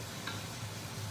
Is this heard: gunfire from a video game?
no